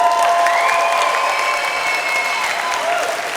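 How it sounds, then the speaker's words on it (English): Outdoor audience at a vegan camp-out event applauding steadily for over three seconds, a loud dense wash of clapping with some crowd noise and tonal background sound running underneath. "I think that deserves a little round of applause."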